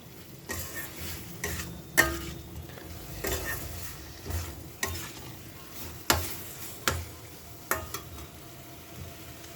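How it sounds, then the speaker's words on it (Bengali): Fish and spices being sautéed in a pan, with a steady low sizzle broken by several sharp scraping stirs and clinks of the spatula against the pan, close and moderately loud. "কষে নিই মাছটা, মশলাগুলো।"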